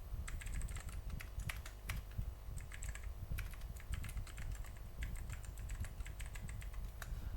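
C++ code typed on a computer keyboard, a fast, irregular patter of close key clicks in bursts over a low background hum, with no voice.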